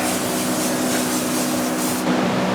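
A steady, close hiss of aerosol spraying runs continuously, with a faint mechanical hum underneath, stopping briefly near the end.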